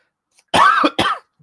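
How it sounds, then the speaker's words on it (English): Two dry, harsh coughs in quick succession, close and fairly loud, with silence around them. "had this dry cough for a while."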